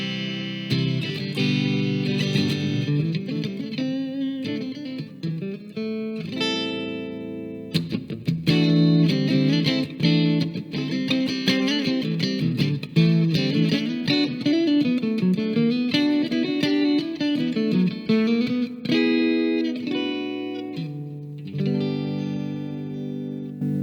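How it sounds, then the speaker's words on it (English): An electric guitar plays through a Fender Mustang LT25 amp on a clean tone, with ringing chords and melodic lines that continue with short breaks. The tone is close, steady and fairly loud. "first I want to show you this Fender clean"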